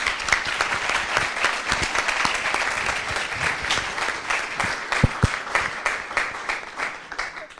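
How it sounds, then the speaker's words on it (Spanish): An audience at a book launch event applauds steadily for several seconds, a full, even clapping that tapers slightly near the end. "Así que un gran aplauso."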